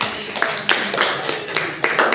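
A small audience at a teacher-training class session claps, making a loose run of distinct, fairly close hand claps with some voices underneath.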